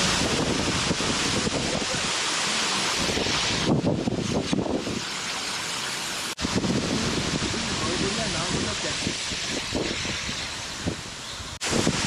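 Waterfall beside the road in Lachung, North Sikkim, a broad, constant rushing roar of falling water mixed with gusty wind buffeting the microphone and a voice heard briefly.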